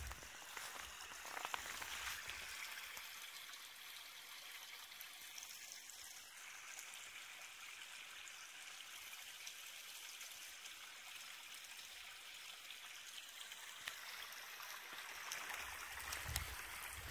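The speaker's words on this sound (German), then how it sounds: "Der Wasserlauf, dem ich gefolgt bin." A small stream trickling and flowing through a snowy forest, a soft, steady, continuous burble heard alone at low level.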